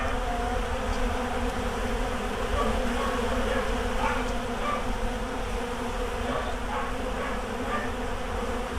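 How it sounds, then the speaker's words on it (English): Honey bees swarm around four-frame feeders set in a deep brood box under a trailer in spring, a dense, continuous buzzing hum that stays close and steady throughout with no voices. "The bees are flying."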